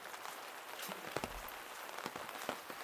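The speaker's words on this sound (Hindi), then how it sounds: "एक तो बारिश में हम फंस गए।" Rain falls steadily on a banana farm of G9 banana plants in Uttar Pradesh, a dense, even hiss with scattered louder drop impacts, with no talk.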